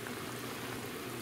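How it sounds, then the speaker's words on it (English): Chili simmering in a pot for chili dogs gives a steady, soft bubbling and sizzling wash that stays even throughout, close and fairly quiet with no voices. "A bubbling brew."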